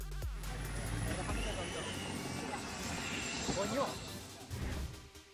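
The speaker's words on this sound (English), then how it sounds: "aircraft rises into the sky while creating impressive rings from the air" A fixed-wing aircraft takes off and climbs, throwing rings through the air, its loud engine roar filling the scene with a sustained, wavering drone and rumbling low end.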